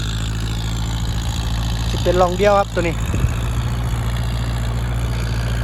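A walking tractor engine idles with a steady low rumble throughout while someone talks over it.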